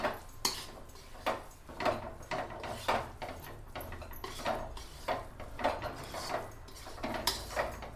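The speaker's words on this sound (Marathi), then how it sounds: "आता हे टाकूया हलव्यामध्ये आपल्या चांगलं मिक्स करून घ्यायचं" A spoon repeatedly scrapes and clinks against a pan while roasted cashews and almonds are stirred into Maharashtrian carrot halwa. The strokes are close and steady, about one every half second, with no talking.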